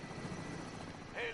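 A helicopter's rotor and engine drone in a PS4 video game, a steady rumbling whir under busy in-game sound, with an electronic tone rising near the end.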